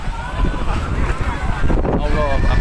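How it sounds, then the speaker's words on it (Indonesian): Strong, gusty wind storming through a residential area of Bekasi roars and buffets the microphone in a continuous loud rush, with voices talking over it. "Anginnya kencang banget."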